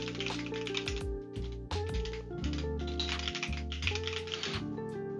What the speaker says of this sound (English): one way you can do this is just typing out the entire variable here